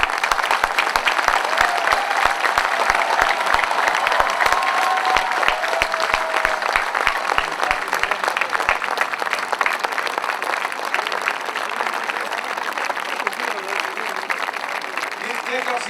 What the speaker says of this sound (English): give him a standing ovation and also a thunderous applause